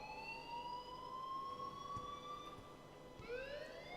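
An alarm in Life Is Strange wails steadily, a rising and falling electronic siren tone that holds throughout at moderate loudness, heard on its own.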